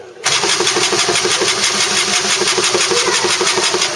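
A car engine cranks steadily and rhythmically without catching, a dead cylinder not firing, loud and close from start to end after a brief quiet moment.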